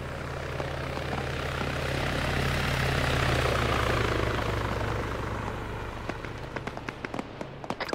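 A helicopter in the Arma 3 military game flies close by with a steady, loud rotor drone that swells and then eases, with sharp cracks of gunfire breaking through near the end.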